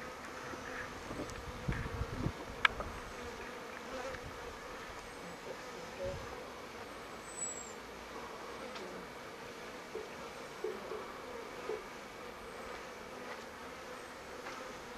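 Swarm of bees around an apple tree in a garden, a steady, faint outdoor buzz running throughout with occasional soft bumps and light breeze, no clear talk.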